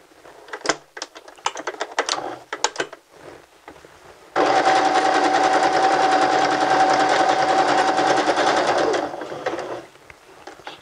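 A sewing machine runs a basting stitch in one steady burst of about five seconds, preceded by scattered clicks and handling noises of fabric being positioned.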